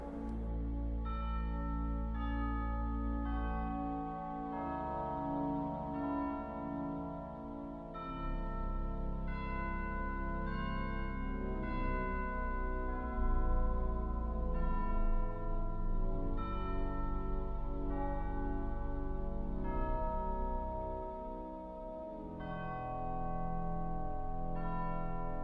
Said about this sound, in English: a set of Deagon church organ chimes that appear in a large American organ, and they're very effective here